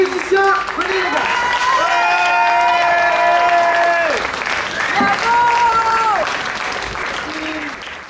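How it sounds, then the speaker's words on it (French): Audience applauding musicians, a dense, loud continuous wash of clapping with cheering voices and sung or shouted tones rising over it throughout. "On va applaudir encore les musiciens."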